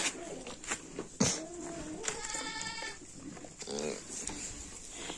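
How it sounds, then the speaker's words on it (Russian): Nanny goats and their kids on a small farm bleat and call close by, their wavering cries mixed with other noises, and a person is talking over them. "и козлята зовут, есть, и козы зовут"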